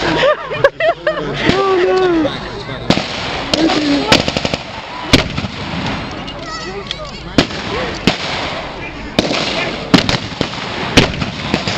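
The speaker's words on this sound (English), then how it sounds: "Employing a Vickers machine gun, a heavy machine gun, an enormous covering fire for their attack." Vickers heavy machine gun firing in a staged battle show, with sharp bursts and single loud cracks repeating over an announcer's voice on a loudspeaker outdoors.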